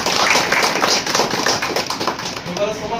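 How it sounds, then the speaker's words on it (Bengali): A crowd at a party joining programme in Kolkata claps loudly for the party, a dense patter of many hands under and around talk that continues throughout. "এই পার্টির জন্য সবার প্রথমে একটা জোরে হাততালি।"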